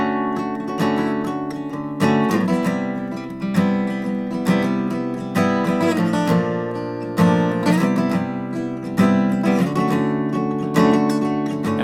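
An electric guitar plays a chord part built on major 7 chords, strummed in a steady rhythm with regular accented strokes, close and clear, with no talk over it.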